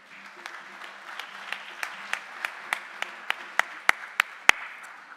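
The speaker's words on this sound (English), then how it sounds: "So give yourselves a big round of applause and a big hug." A crowd of volunteers at an awards ceremony claps, a dense wash of applause with individual sharp claps standing out, steady over about five seconds and fairly close, with no talking.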